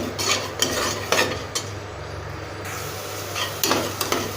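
Ground masala paste for fenugreek-leaf biryani frying in a pan, a steady low sizzle with repeated scraping and clinking stirring strokes of a spoon against the metal pan, close and with no talk.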